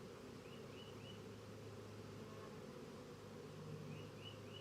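A honeybee swarm hums as a faint, continuous drone outdoors, even and unbroken, with a few light bird chirps drifting in the background.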